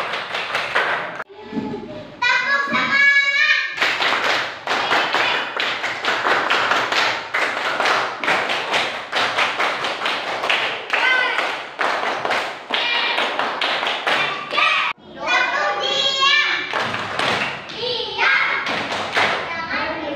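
Elementary schoolchildren perform a rhythmic group clap chant in a classroom, sharp unison claps and thumps in patterned bursts, mixed with loud children's voices chanting along between the clapping sequences.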